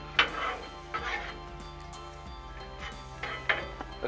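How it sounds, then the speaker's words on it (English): A spatula stirring and flipping shrimp on a hot Blackstone flat-top griddle, with a steady background sizzle and several sharp metallic scrapes and taps spread across the few seconds, no voices. "let's stir this shrimp up, y'all."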